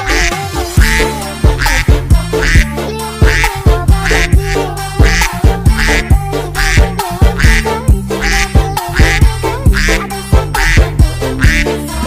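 Cartoon-style duck quacks from a children's animated cow-truck song, repeated rhythmically over bouncy music throughout, loud and steady.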